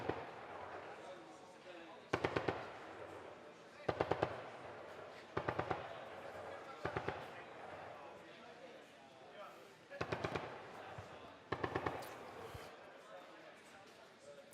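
A Kongsberg remote weapon station fires at a live firing show about 230 meters away, short rapid bursts of sharp shots coming at intervals, loud against a murmuring background.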